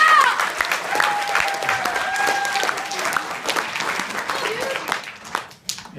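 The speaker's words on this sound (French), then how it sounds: "Bonne applaudissement." An audience at a chemistry reaction demonstration breaks into sustained applause, a dense wash of clapping that gradually fades over several seconds, with a voice briefly heard over it.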